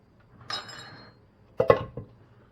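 Dishes clink as chicken zucchini casserole ingredients are pushed into a casserole pan, with a scraping rattle followed by a few sharp glassy knocks, close and fairly quiet.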